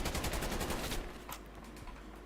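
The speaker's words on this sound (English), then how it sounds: "But I hit him with the bullets." Rapid automatic gunfire in a 2v2 shooter video game tournament, dense and loud for about a second, then dropping to quieter scattered shots and game noise.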